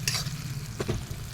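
Onion, ginger and garlic fry in a pan over a wood fire, a steady close sizzle with a low crackling rumble beneath and a couple of brief stirring scrapes.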